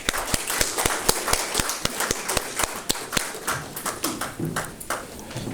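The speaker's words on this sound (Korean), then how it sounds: "나오실 때 뜨거운 박수, 큰 박수로 환영해 주시기 부탁합니다." Rhythmic, fairly sparse clapping from an audience at a founding convention of an interreligious national security association, with distinct individual claps in a steady beat that thin out toward the end.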